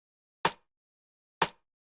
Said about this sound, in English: is this rim shot, which sounds like this